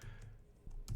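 Typing on a computer keyboard while entering a DAX formula in Power BI, giving soft close key clicks in a brief burst, with a louder tap near the end.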